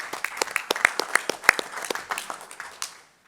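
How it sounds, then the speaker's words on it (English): A small group at a school board meeting claps, sharp individual hand claps in an uneven patter that thins out and stops at the end. "So I think Monica deserves a big hand of applause."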